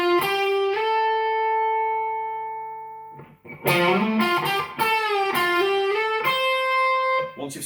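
An electric guitar plays a blues lick, opening with sustained held notes, then a busier run of string bends and slides with sliding pitch, played alone and close.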